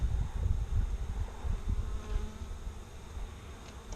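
Honeybees in an opened beehive hum in a dense, steady buzz, fairly close but soft, with individual bees swelling briefly in and out; no talk is heard.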